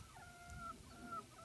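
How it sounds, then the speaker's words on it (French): Barbezieux chickens cluck softly in the background, a few faint calls over a low, quiet ambient hum with no talking. "on a toutes les poules de Barbezieux"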